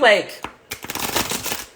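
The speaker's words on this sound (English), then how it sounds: "but it's easier to shuffle in your hands" A deck of cards is shuffled by hand, giving a soft flutter and then a busy, continuous papery riffle that runs close and alone.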